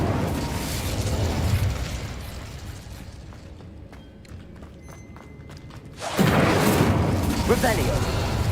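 An Incendio fire spell from the game Hogwarts Legacy: a rumbling, roaring blast fades to a quieter stretch. Then a sudden loud burst of flame erupts and keeps roaring to the end.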